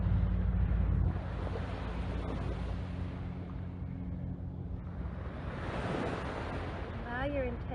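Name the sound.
ocean waves on the shore at Olowalu, Maui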